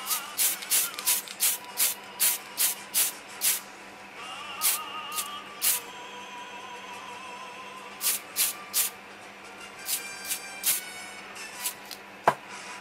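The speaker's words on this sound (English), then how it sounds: "Let's start priming." Spray primer is applied to a Bandai plastic model kit of Jibanyan in a series of short hissing bursts, some quick and rhythmic and others separated by pauses, heard close and alone, with a sharp click near the end.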